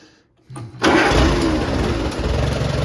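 A close tractor engine cranks briefly, then catches and settles into a loud, steady rumbling idle.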